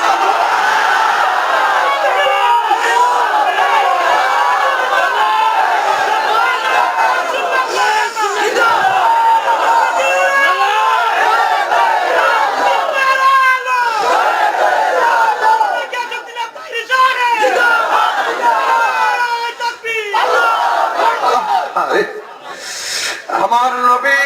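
A huge crowd at an outdoor Islamic mahfil in the rain chants the Subhanallah slogan in unison, loud rolling waves of voices sustained throughout with brief dips near the end.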